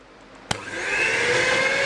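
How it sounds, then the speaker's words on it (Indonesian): An electric hand mixer clicks on and quickly rises to a steady, close whirring hum as it whisks cake batter for a banana almond cake, with no talking. "Kita kocok pakai hand mixer ya, biar agak lebih cepat ya"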